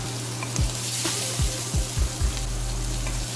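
Scallops sear in rendered bacon fat in a pan, giving a steady close sizzle broken by several sharp low thumps and scrapes as the pieces are turned over one after another.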